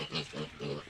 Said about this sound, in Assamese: ডাঙৰ গাহৰি 5জনী আছে